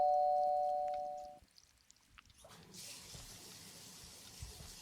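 Water running or filling a bathtub in a spooky point-and-click game, a steady soft wash of noise entering after a fading tone and a short quiet gap, continuing evenly to the end.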